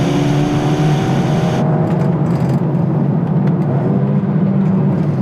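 A 2020 Mercedes-AMG A35 sedan in Sport Plus mode accelerates hard under manual paddle shifting. A steady close engine drone with rising tones cuts into a lower, rougher rumble partway through, suggesting a gear change.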